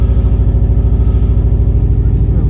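2003 Subaru WRX engine, rusted exhaust with a hole, running loud and close with a fast, even pulsing throb and a rattly edge, no voices over it.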